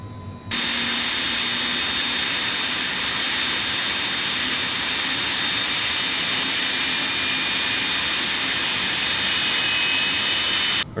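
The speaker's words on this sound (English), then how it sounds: "Starting engine 1." An MD-11 jet engine in Microsoft Flight Simulator 2020 spins up and settles into a steady, loud broadband roar with a thin whine on top, holding constant throughout with no talk.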